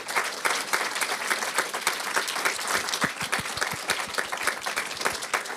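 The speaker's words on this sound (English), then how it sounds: "I would love to invite everyone to give a round of applause to Yi-Ling" A large audience claps a steady round of applause at a book talk, dense and continuous throughout with no speech over it.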